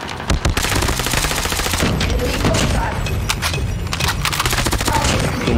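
Rapid, loud bursts of OTs-9 submachine gun fire in a video game, shots rattling almost without pause across the whole stretch and sounding close and dense.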